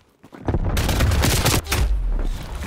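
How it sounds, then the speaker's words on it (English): Grenade blast and surrounding gunfire in Call of Duty: Black Ops Cold War, a sudden loud burst of noise that rumbles on for about two seconds with crackling shots, no talking. "Throwing a grenade."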